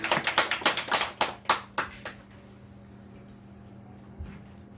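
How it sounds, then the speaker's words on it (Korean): A church congregation claps in a short burst of roughly a dozen sharp, evenly spaced claps that thin out and stop after about two seconds, leaving a quiet hum of the room. "우리 하나님께 영광의 박수 올려드리겠습니다."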